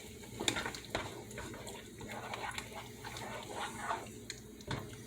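A spoon stirs a pot of chili, giving soft, irregular wet scrapes and knocks over about five seconds, fairly quiet and near, with no talking.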